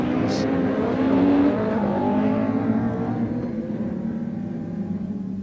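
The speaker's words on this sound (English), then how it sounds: "to hear the sound of Rich Moore's car is just incredible. Beautiful V8." Beautiful V8 rallycross car at Blyton Park during a BTRDA Clubmans Rallycross race: a loud, steady engine roar that swells briefly, then eases and fades slightly toward the end.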